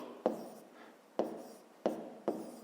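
Pen on paper while working a 5th-grade math exercise, four separate sharp scratchy strokes spaced about a second apart, each fading quickly, in a quiet room.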